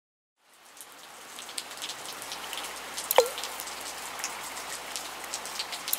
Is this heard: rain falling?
yes